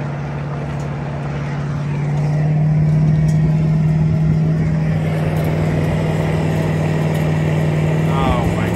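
Old neglected car labouring slowly up a hill, a steady low engine drone that swells slightly and holds, loud and close, with a voice talking over it.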